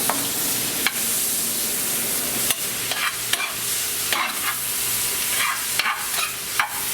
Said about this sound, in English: I'm just going to saute these up a little bit.